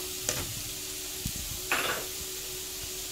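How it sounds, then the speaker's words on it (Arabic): Onion and small cubes of diced chicken breast fry in oil in a pan, giving a soft, steady sizzle with a few brief stirring scrapes, fairly quiet and with no talking. "غادي نشحرها مزيان تدبل ونضيف عليها الدجاج"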